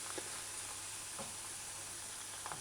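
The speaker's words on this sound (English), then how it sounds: "Just frying away." Pork pieces sizzle steadily in a pan for a pepper stir-fry, a constant close frying hiss with a few soft clicks of stirring and no talk.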